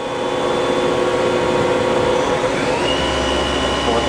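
A Doosan 4-axis vertical machining center with a CAT 40, 8,000 RPM spindle runs at 2,000 RPM, giving a steady, loud mechanical whine and hum that holds evenly throughout, with a tone shift partway through.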